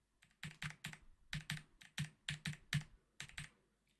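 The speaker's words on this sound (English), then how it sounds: "How is it I'm nearly as loud as my own keyboard?" Close, clear keystrokes on a computer keyboard in an irregular run of about a dozen separate clicks, with no talking.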